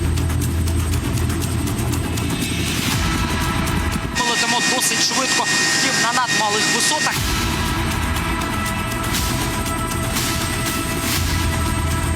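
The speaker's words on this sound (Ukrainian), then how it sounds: "один із гелікоптерів національної поліції, які з'явилися в Україні у 2021-му" A Ukrainian National Police helicopter flies overhead, a steady loud engine and rotor drone with tonal whine that continues throughout, while a voice talks over much of it.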